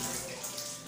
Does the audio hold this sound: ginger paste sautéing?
no